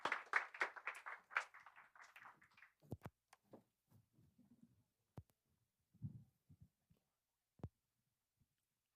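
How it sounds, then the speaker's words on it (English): A lone audience member clapping at a startup summit: a short burst of sparse handclaps near the start, then quiet with a few isolated faint knocks and thumps in an otherwise silent room. "let's hear a nice round of applause"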